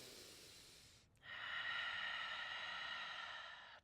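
A person breathes during a morning yoga routine. One soft exhale fades, then after a short pause a long, steady, close breath with an airy hiss follows, quiet and alone.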